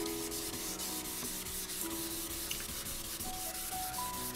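Steady rasping strokes of sandpaper rubbed over Honda NS250R motorcycle parts during a restoration, continuous and close, with no talking.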